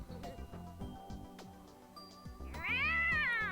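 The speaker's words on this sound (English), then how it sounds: "She just straight up meowed." A character in the video game Steins;Gate 0 meows like a cat, starting with a few short chirpy sounds and then rising into one long, loud, drawn-out meow near the end.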